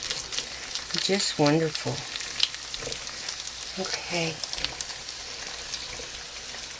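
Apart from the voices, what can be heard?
food frying in a large pan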